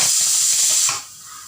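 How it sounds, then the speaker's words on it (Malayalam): A pressure cooker of rice for kanji on a home kitchen stove vents steam in a loud, close, broad hiss that holds steady for about a second, then drops off to a faint residual hiss. "അപ്പം അതേ നമ്മളെ കുക്കർ വിസിലടിച്ചിട്ടുണ്ട് കേട്ടോ"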